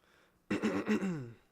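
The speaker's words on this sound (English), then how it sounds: "Sorry, I'm clearing my throat right now." A person clears their throat once, close and fairly quiet, a short rough rasp trailing off into a low voiced hum.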